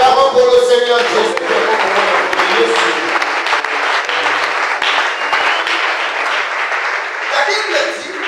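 A church congregation applauding, a loud dense wash of clapping and cheering that fills the room and continues steadily, with a voice speaking over it at the start.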